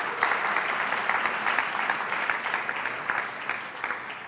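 Applause from an audience at a university's State of the University address, a steady crowd clapping texture with dense hand claps sustained throughout at moderate distance.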